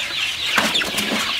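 Chickens cluck and fuss together at close range while being fed garlic mixed into their feed, a short busy burst of farmyard calls over steady background noise.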